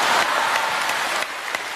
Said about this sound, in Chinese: 可以鼓掌